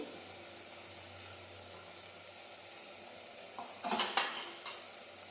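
Cumin and turmeric hit hot oil in a pan while cooking a brinjal and tomato curry, a steady low sizzle that flares into a brief louder crackle near the end, close and without talk.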